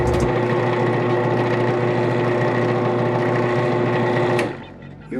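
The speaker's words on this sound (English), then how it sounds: "We have us an operational drill press" A newly assembled 12-speed benchtop drill press motor runs with a steady, close electric hum and whine for about four seconds, then switches off and winds down.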